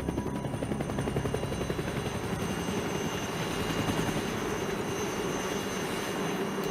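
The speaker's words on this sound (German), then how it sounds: "Was denken die, wenn die mit Helikopter über deren Dorf fliegen?" A helicopter flies over a remote village, its rotor chopping loudly and steadily without a break.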